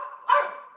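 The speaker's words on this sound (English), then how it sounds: "So this is my dog." A single short bark from a pet dog, fairly close and clear, rising suddenly and trailing off within a second against quiet surroundings.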